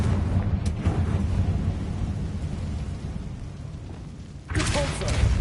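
A Confringo fire spell erupts in a decaying catacomb in the video game Hogwarts Legacy: a low, thunder-like rumble rolls on, then a sudden louder blast bursts near the end.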